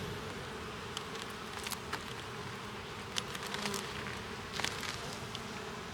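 Honeybees buzz in a dense, steady hum at an open two-queen hive, with occasional soft clicks and knocks close by.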